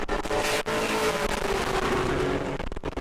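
A pro late model race car on a timed qualifying lap at New Smyrna, a loud engine roar close by that holds steady over a dense wash of track noise for a few seconds.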